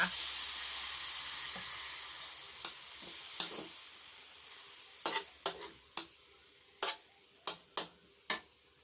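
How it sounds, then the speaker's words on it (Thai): Meat stir-fries in a pan for bitter gourd curry, a hissing sizzle that slowly fades while a utensil strikes the pan in a run of sharp, irregular taps that grow more frequent. "เมื่อเราผัดลงไปแบบนี้แล้วเราก็จะใส่ กะทิกล่องลงไปนะคะ"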